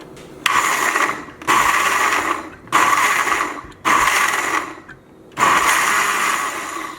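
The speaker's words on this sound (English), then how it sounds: "Now we're going to blend it." A blender whirs in five short pulses of roughly a second each with brief pauses between, blending an oil-free kumquat, maple syrup and toasted dill seed salad dressing, close and loud, without talk.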